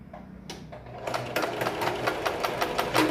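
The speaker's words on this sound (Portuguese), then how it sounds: "Então, você vai dar um retrocesso, costura, retrocesso." A sewing machine runs in short bursts while hemming a cloth dish towel, stitching forward and reversing to backstitch, with a steady rapid mechanical whir that speeds up and continues close and loud.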